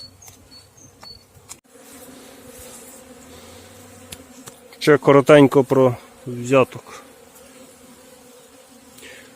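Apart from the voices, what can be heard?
honey bees buzzing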